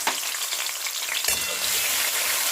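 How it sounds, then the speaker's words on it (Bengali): Tomatoes frying in oil spiced with whole spices and a green chilli, a constant close sizzle with a sharper burst as stirring or added food hits the hot pan; no talking. "টমেটোটাকে ভেজে নেব।"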